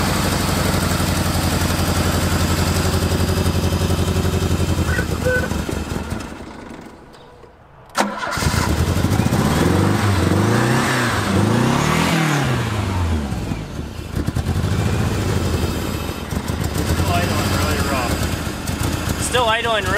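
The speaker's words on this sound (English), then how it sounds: "still idling really rough down low for some reason" A Dodge Charger engine dies away, then cranks and catches, revving in uneven surges before settling into a rough, lumpy idle, loud and close amid gusty outdoor wind noise.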